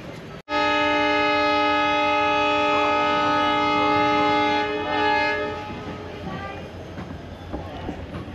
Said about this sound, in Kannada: ಈಗ ನಮ್ಮ ಟ್ರೈನ್ ಡಿಪಾರ್ಟ್ ಆಗ್ತಾಯಿದೆ ಕಡೂರು ಜಂಕ್ಷನಿಂದ